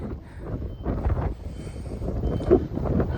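Steady broadband rush of strong wind buffeting the microphone at Rathoa Haryam Bridge, Mirpur, Azad Kashmir, low and continuous with gusty swells, no voices.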